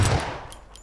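Gunfire in the battle royale video game PUBG: a couple of quick, sharp shots right at the start that fade into a soft decaying tail with faint echoes.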